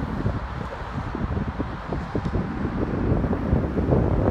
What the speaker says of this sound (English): My apologies for the sound. It's quite windy out here this morning.